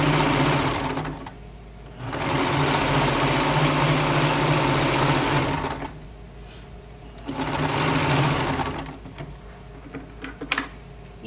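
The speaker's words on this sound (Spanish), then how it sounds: "sobre eso vamos a coser." A sewing machine stitches a seam on women's trousers in loud continuous runs, stopping and starting twice with brief pauses between bursts of steady mechanical whirring, no talking.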